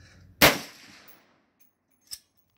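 A 350 Legend rifle fires one loud, sharp shot through a chronograph, its report decaying over about a second, followed by a faint brief metallic click.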